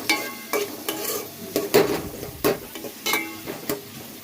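Onions frying in oil in a pan for chicken curry, with a low background sizzle broken by repeated sharp spatula scrapes and clinks against the pan roughly every half second, close by and with no talking.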